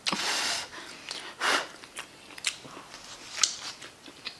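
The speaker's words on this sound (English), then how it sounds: "Doing like a little mini mukbang." Close, wet chewing and biting of meat during an eating session, with a few sharp crunchy bites and soft mouth noises standing out against a quiet background, no talking.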